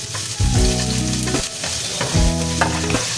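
Ginger and garlic hit hot oil in a frying pan and sizzle steadily, with a couple of louder bursts as the pan is stirred, close and continuous with no talking.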